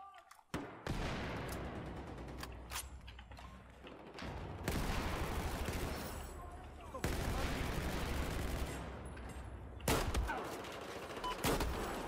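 Sustained bursts of gunfire from the video game Battlefield 4, firing an ACE 23 rifle with a short barrel, come in long, dense volleys separated by brief pauses. The shots are loud and close, with rapid repeated cracks across the whole stretch.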